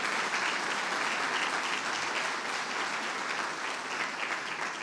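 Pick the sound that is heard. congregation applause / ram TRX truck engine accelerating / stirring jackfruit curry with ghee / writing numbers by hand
congregation applause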